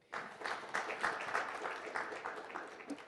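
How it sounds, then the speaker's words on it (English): Applause for a speaker at a business expo and independence festival, rising suddenly into a moderate, somewhat distant patter of clapping hands that holds fairly even throughout. "A round of applause to Mama."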